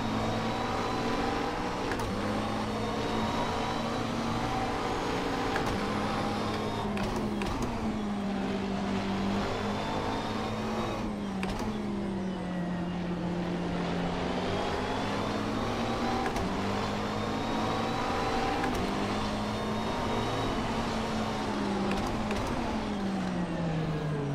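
Simulated GT3 race cars, including a McLaren and Bentley, racing in rFactor 2, their engines droning loudly with repeated upshifts and sweeping rev changes, a continuous close engine roar with no voices.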